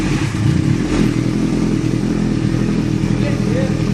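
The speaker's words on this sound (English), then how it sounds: "You can hear the pulse and pulsing roar of this 14R. Hear the lovely exhaust note," A Kawasaki Ninja ZX-14R fitted with a Dan Motor slip-on exhaust rumbles close by in a deep, pulsing roar that stays loud and continuous, with a brief rev swell near the start.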